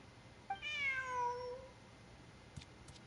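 A cat in the video game Genshin Impact gives a single clear, drawn-out meow, close and distinct against a quiet background, followed by a couple of faint clicks.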